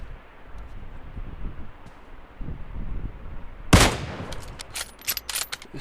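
Gunfire in a battle royale mobile game: low distant rumbles and thuds, then one loud close crack midway followed by a scatter of sharper shots.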